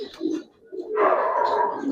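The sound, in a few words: Silver Giribaz pigeons cooing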